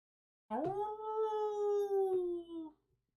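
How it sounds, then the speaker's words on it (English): A single long wolf howl used as a tabletop game sound effect, rising sharply and then holding a steady, mournful tone for about two seconds before trailing off, alone and clear. "you hear howling."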